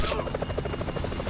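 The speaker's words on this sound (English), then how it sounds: "Can you hear that? Chopper! Incoming!" A helicopter in the video game Grand Theft Auto V, a loud, steady rotor chop with rapid rhythmic thumping and a whining buzz, close and continuous with no talking.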